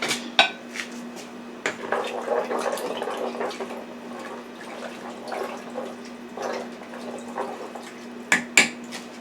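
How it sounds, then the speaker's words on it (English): A spoon clinks and scrapes against a pot while black-eyed peas are stirred with olive oil, close and steady with scattered sharper knocks, over a low hum and no talk. "let's stir that up"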